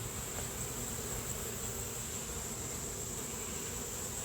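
Honey bees crawling on brood comb frames during a nuc hive inspection, a steady close buzzing hum that holds evenly throughout with no talk.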